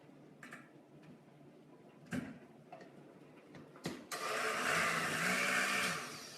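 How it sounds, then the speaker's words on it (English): A kitchen blender purees tomatoes after a few clicks and knocks while it is set up. The motor then whirs loudly and steadily for about two seconds, close by, with no talking. "we're going to put it in the blender and"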